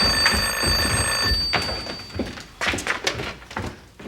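A telephone bell rings in a steady metallic trill for about a second and a half, then stops, followed by knocks and handling sounds indoors.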